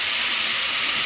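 Banana chips frying on a stove give off a continuous, even hiss of bubbling oil, close and steady with no talking.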